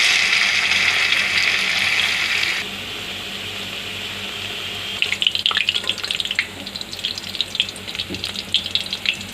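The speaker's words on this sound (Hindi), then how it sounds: "ये देखिए हमने गरम तेल में इसके कटले जो बनाए थे" Cutlets hiss and sizzle as they fry in hot oil, a bright steady frying sound that cuts off, then returns with crackling, spattering bursts.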